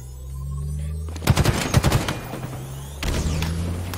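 Bursts of automatic gunfire from Halo Infinite ranked Stronghold play, a dense fusillade of rapid shots around the middle followed by another loud volley near the end, over steady game ambience.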